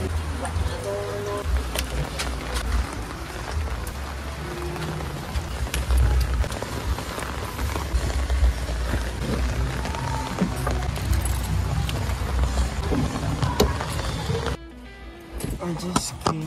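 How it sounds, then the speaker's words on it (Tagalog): Rain falling at a sunset viewpoint, a dense, loud and continuous hiss and patter with low rumbling underneath, lasting almost the whole time before briefly thinning near the end, with people talking over it. "Umulan."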